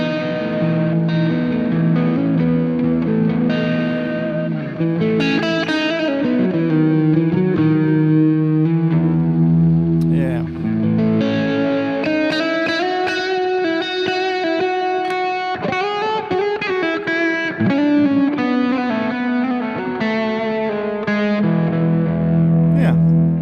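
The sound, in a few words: electric guitar through Andy Timmons distortion pedal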